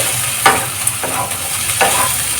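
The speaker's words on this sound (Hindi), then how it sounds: "अब इसको चला लेंगे" Capsicum and besan (gram flour) fry in an open kadai as a spoon stirs them, giving a close sizzle broken by a few sharp scraping strokes roughly every half second.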